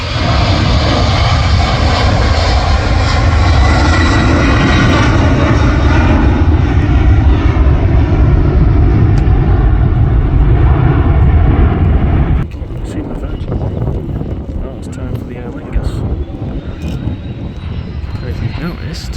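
An Air France airliner's jet engines roar loud and steady at Manchester Airport, a broad sustained rumble that drops off sharply partway through, leaving fainter engine noise with wind.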